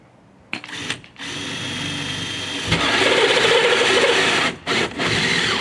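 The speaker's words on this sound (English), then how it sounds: "Gotta drill the breathing holes for the wild animals." A power drill bores breathing holes into a wooden crate for a Halloween wild-animal display, whirring in a few short bursts, then running long and steady, loud and close, with a brief stop before the end.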